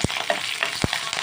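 Onions with green and dry chillies fry with drumstick and curry leaves, giving a brief close sizzle punctuated by two sharp spatters or stirring knocks.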